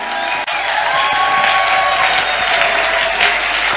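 A church congregation at a Sunday wedding-blessing service applauds loudly and steadily, a dense continuous clapping with faint crowd voices mixed in throughout.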